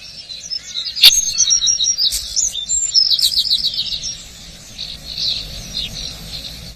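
A fledged woodpecker chick climbing a tree in the Lost Gardens of Heligan gives bursts of high, rapid chirping calls, preceded by one sharp click, with softer chatter continuing through a quiet outdoor background and no talking.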